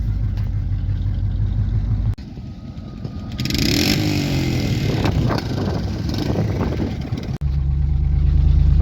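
A lifted Chevrolet OBS K1500 truck drives, with a loud, close engine rumble that idles, revs up into a rising roar and settles back down, steady throughout with no speech.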